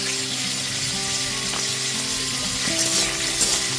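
Peas and chopped capsicum sizzle steadily in a hot pan while being stirred, part of a sabudana pulao for a fasting day; a close, continuous frying hiss with soft scraping, no voices.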